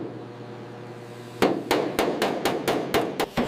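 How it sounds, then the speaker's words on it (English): A hammer pounds the body metal of a wrecked Dodge being restored after it was found in a forest. After a stretch of low hum, about eight sharp, ringing blows land close and loud in a steady rhythm. "Listen to the rhythm of the hammer."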